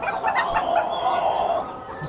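Chickens on a fancy-breed chicken farm in Bangladesh cluck in a steady, busy chorus of overlapping calls, close and moderately loud, with no talk on top.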